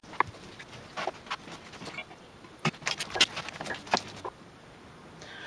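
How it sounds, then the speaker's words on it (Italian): Homemade bread dough is kneaded by hand on a wooden cutting board, giving soft, irregular slaps, presses and taps at close range with no talking. "Adesso impastiamo nuovamente."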